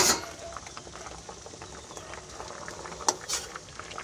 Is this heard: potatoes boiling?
yes